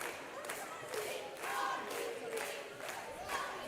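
A high school girls varsity basketball crowd in a gym cheers and chants in rising, pulsing waves, a dense wash of voices heard from a distance with some speech mixed in.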